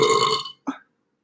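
A single person's burp, a loud drawn-out belch that fades, followed by a short second gulp, then silence.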